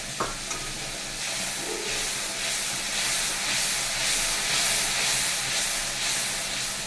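Water poured into a hot pan of hilsa fish curry with aubergine, raising a loud continuous hiss of steam and sizzling after a couple of brief clinks, with no talking.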